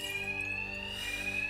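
Alarm blaring in Batman Arkham Knight: a steady, piercing electronic tone that rings continuously at constant loudness over a low background hum, with no voices.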